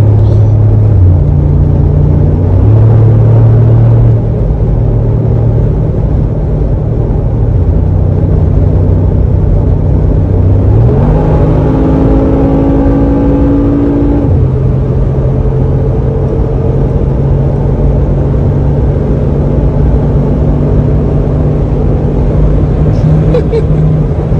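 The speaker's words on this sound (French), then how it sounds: "j'ai tapé le max de cette voiture, donc le Classe G." A Mercedes G63 AMG engine drones loudly from inside the cabin at full throttle, climbing in pitch as it speeds up to top speed, then settling back into a steady heavy rumble.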